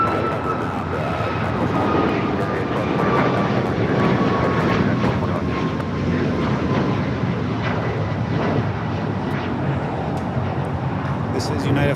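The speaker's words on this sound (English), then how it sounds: "This is United Flight 1221 going back to Denver on a MAX 9." A United Boeing 737 MAX 9 jet roars steadily at an airport, a loud sustained engine rumble with a whining tone, with voices talking over it.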